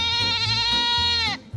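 Adult goats bleat at a family outing, one long loud wavering harmonic cry lasting over a second, close by, then breaking off abruptly.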